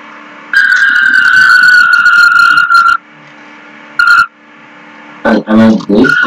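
A Porsche engine in the Vehicle Sim video game roars loudly with a sustained high rev, drops out, gives a short burst, then revs again in quick stabs; no talking.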